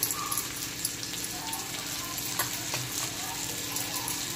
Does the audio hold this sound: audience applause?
no